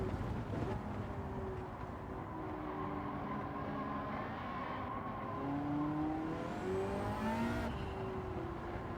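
Several Ferrari F40 race cars in Gran Turismo 7 roar together in a crowded pack, engines revving and shifting pitch continuously over a steady loud drone, with no talking.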